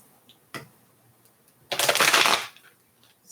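Large oracle cards being shuffled by hand: a single soft slap, then a dense burst of riffling lasting under a second, with quiet room tone around it.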